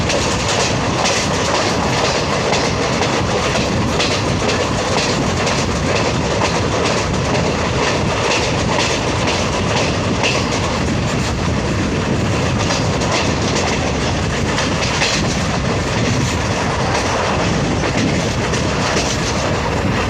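Steady, loud rumble of a train running on tracks near Kodi railway station on the Parbhani–Jalna line, India, with continuous clickety-clack of wheels and rattling carriage noise throughout.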